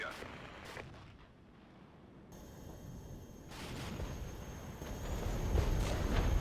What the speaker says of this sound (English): first round of cannon fire going out.